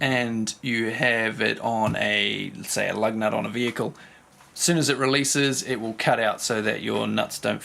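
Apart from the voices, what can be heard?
No everyday noises stand out.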